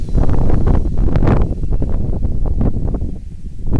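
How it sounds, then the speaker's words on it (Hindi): Strong wind sweeps across a rooftop on a hilltop in Bhaunkhal village near Jim Corbett, buffeting the microphone with a loud, steady rumble that eases slightly toward the end. "हवा चल रही है, बिल्कुल फ्रेश एयर है"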